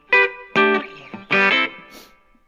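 Short electric guitar phrases through a Marshall DSL 1H amp ring out with a digital spring reverb, springy and splashy, trailing each note into silence.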